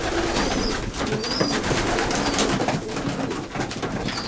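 Racing pigeons coo steadily in a low, throaty murmur while feeding, several birds close by, with rustling and scattered higher chirps throughout.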